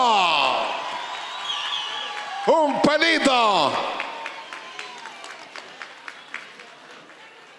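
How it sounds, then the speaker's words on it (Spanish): Applause and cheering from an audience at an outdoor festival award ceremony in Chile Chico. A voice speaks first, then loud whoops and cheers rise, followed by a steady patter of clapping that gradually fades. "¡Fuerte el aplauso!"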